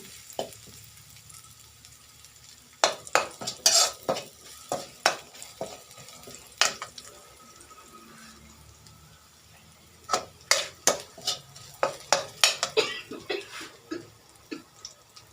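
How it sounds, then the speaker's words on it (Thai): Squid tentacles stir-fried with holy basil and green chili in a pan, a faint steady sizzle broken by two bursts of sharp scraping and clattering stirring strokes. "นี่ผัดกะเพราหมึกหนวดหมึกพริกเขียว"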